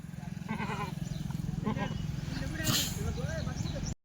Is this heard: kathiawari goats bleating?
yes